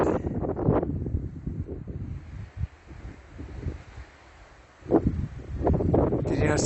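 Strong mountain wind buffets the microphone on a hiking trail up the Ajusco volcano near Mexico City, a steady rushing roar with gusty swells, briefly easing midway before surging again.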